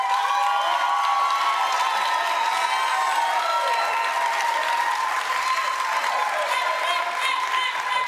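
Studio audience at a talk show clapping steadily, a dense continuous round of applause with some cheering mixed in.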